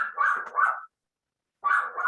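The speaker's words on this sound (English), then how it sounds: "Heidi, No, that's just my dog barking at somebody in the back door" A Shnoodle dog barks at someone at the back door: two short bursts of close, loud, sharp barks, the first a pair of quick yelps run together, then a brief silence before another bark.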